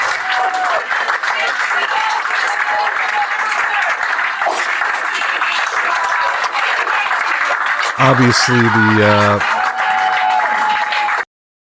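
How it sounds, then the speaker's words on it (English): At the end of a concert's last song, a crowd cheers and applauds in a loud, continuous wash of clapping and shouting that lasts throughout, briefly joined by a short burst of music near the end. "the last song of the night, as the crowd goes wild"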